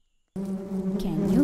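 Bees buzzing around flowers, a steady close droning hum that starts suddenly after a moment of silence and holds, wavering slightly toward the end.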